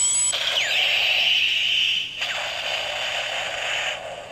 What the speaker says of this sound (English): And then you get a nice explosion sound.